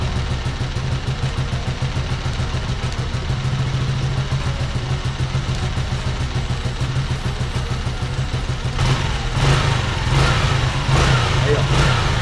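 A Honda Titan KS 125 motorcycle engine running close by with a steady throbbing idle that lifts into revving bursts near the end, with voices talking over it.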